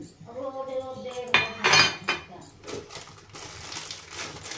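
Steel dishes and cutlery clattering and clinking as a domestic helper washes utensils in a home kitchen, a busy run of metallic knocks and scrapes with a soft voice briefly underneath.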